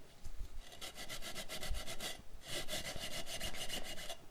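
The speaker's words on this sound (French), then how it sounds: "on vient doucement frotter pour nettoyer" Old gasket residue being rubbed gently off a motorcycle clutch cover sprayed with WD-40, on a Yamaha FZ1 Fazer 1000. Steady, close back-and-forth scrubbing strokes repeat in a brisk rhythm, with a short pause midway.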